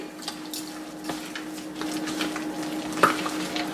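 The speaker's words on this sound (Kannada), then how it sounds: "ಚೆನ್ನಾಗಿ ಕೈನಲ್ಲೇ ಮಿಕ್ಸ್ ಮಾಡಿ" Grated coconut, ginger, cumin, pepper, asafoetida and salt mixed by hand for steamed rice-flour kadabu, giving soft close rustling and stirring scrapes with a faint steady hum and a brief clink near the end.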